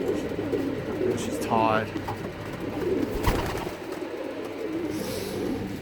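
A racing pigeon coos softly after a long flight of about six and a half hours, a short rising coo near the start amid background hum, with someone speaking briefly and a knock midway.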